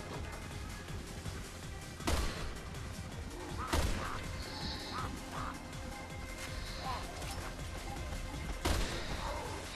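Sniper rifle gunshots in the video game Resident Evil 6 mercenaries mode: three loud, sharp cracks spread several seconds apart over busy game noise with chirping and quacking effects.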